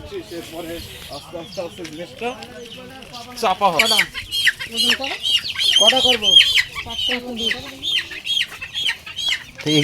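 Village chickens clucking close by, a run of repeated clucks and squawks that grows louder and busier through the stretch, with people talking over them at a rural home.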